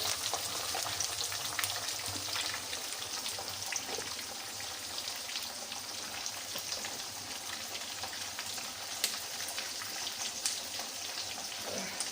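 Cumin seeds frying in hot oil, a steady, dense crackling sizzle with fine pops running throughout, fairly quiet and unbroken, no voices.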